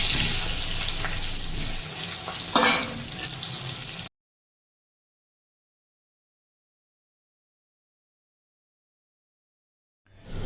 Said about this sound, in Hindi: एबे सेही तेल रे आमे काटिके रखिथिबा आलू गुड़ा को भाजी नबा